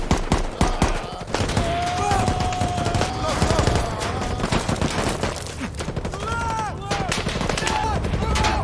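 Dense, loud covering gunfire in a war film battle, with rapid overlapping rifle and machine-gun bursts and sharp cracks throughout, mixed with shouting voices and chaotic combat noise.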